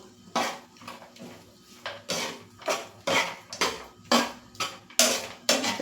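A spoon mixes sabudana and potato khichdi with turmeric in a pan, giving repeated metallic scrapes and clinks in an uneven rhythm, close and clear with no talking.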